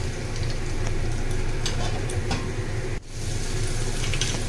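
Chopped onion frying in hot oil in a pan for a Bengali small-fish chorchori, a steady close hiss of sizzling with a brief dip in the middle and no talking.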